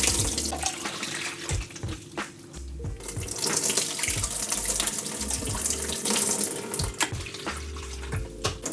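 Tap water running steadily to rinse home-developed color photo film, a continuous close splashing stream with small knocks and handling sounds, no talk.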